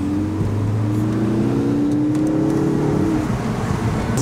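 A racing-model sports car accelerates, its engine note climbing steadily and loud for several seconds with continuous road and wind noise underneath.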